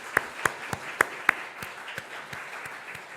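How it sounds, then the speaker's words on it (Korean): Scattered applause from a church congregation at an officer installation thanksgiving service, a handful of distinct sharp claps at first settling into a thinner, steady patter of hands over a few seconds, moderately distant in a reverberant sanctuary. "박수 하시겠습니다."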